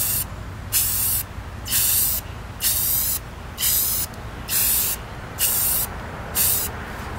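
Spray paint hisses onto AK-74 rifle parts in a light first coat: seven or eight short, loud bursts, each about a second long, with brief pauses between them and no talking.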